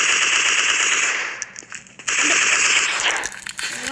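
Rapid automatic gunfire from a shooter video game, loud and continuous, breaking off briefly midway before more bursts of shots and impacts resume.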